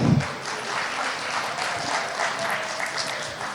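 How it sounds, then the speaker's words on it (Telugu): Audience applause for the TACA team at a Ugadi celebration: a dense, steady wash of many hands clapping that holds at an even level throughout, with no voices over it. "బిగ్ రౌండ్ ఆఫ్ అప్లాజ్ ఇవ్వాల్సిందిగా కోరుకుంటున్నాం"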